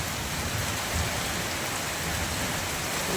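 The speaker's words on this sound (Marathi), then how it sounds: "पाऊस दाखवतो तुम्हाला पाऊस किती तास पडतोय आहे ते क्लिअर सांगतो" Heavy rain pours steadily on Hanuman Jayanti, a dense, even hiss of drops drumming on surfaces with no pauses, close and loud throughout.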